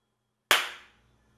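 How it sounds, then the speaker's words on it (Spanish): A single sharp hand clap in front of a camera as a sync signal on an indoor lighting-class set with an actress, one crisp close smack that decays quickly into near silence. "que aplaudas así frente a la cámara como señal de sincronismo"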